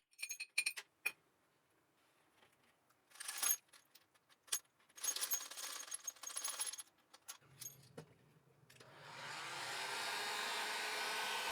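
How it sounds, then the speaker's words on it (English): A home-improvement heat gun blows a steady, broad hiss across cleaned Emco Unimat SL lathe tailstock and spindle parts, starting after several sharp metallic clinks and rattles of the parts being handled. "this time I'm going to try using a heat gun to get rid of the moisture"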